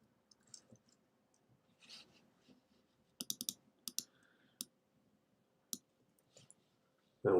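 Sparse, sharp clicks and taps from a computer keyboard during a live forex trading session, some in quick bursts, mostly close and fairly quiet, with a low background hum and a loud thump at the very end.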